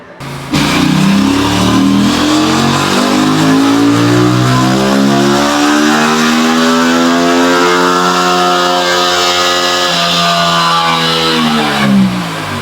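An Aprilia RS 457 motorcycle engine revs hard on a dyno, climbing steadily in pitch through a long, loud sustained pull before easing off at the end.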